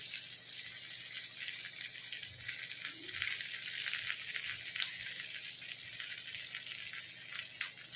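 Potatoes fry in a pan over lowered heat as ginger paste goes in, giving a steady, soft sizzle with faint crackles and a few small clinks throughout.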